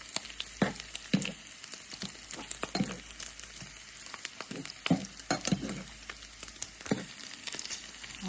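Bacon frying in a pan as it is turned, a soft steady sizzle broken by irregular scrapes and clatters of the utensil, close and fairly quiet, with no speech.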